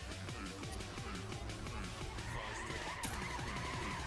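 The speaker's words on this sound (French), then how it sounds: "il fait un beau drift" Skidding tires squeal as a car drifts in a racing video game, a steady dense engine and tire roar running throughout with game music and faint commentary underneath.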